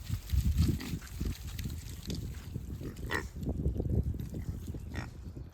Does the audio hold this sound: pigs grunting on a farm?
yes